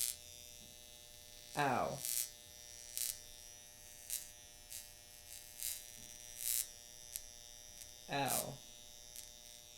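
Vortex Wand Pro hair-loss device tapping the scalp, a steady electric hum with regular sharp tapping pulses, close, while a person cries out in pain twice.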